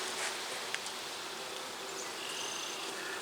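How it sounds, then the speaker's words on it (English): Honeybee nurse bees on a brood frame pulled from a hive during a split, a soft continuous buzzing hum with faint rustling and a small tap, close but quiet. "All these are nurse bees"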